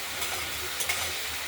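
Spice paste for a katla fish and potato curry fries in oil, giving a steady soft sizzle throughout with faint crackles and a couple of brief stirring scrapes.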